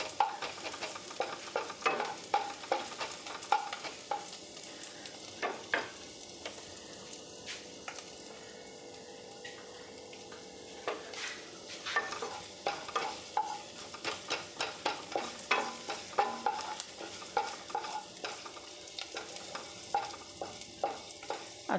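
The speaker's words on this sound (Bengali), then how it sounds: "এবার এটা একটু ভালো করে একটু ভাজা ভাজা করে নিতে হবে হালকা আছে, কেন ঘি তো, নাহলে পুড়ে যাবে।" Garlic frying in ghee in a pan for Bengali-style masoor dal, a steady soft sizzle broken by repeated scraping and clinking of a spoon stirring, close and moderately quiet, with no talking.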